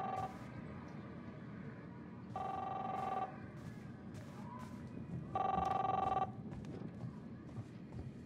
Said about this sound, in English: Chris, answer the phone